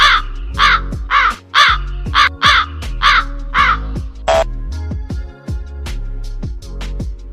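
A crow caws loudly about eight times in a steady rhythm over low, sustained background tones, then the calls give way to quieter sounds.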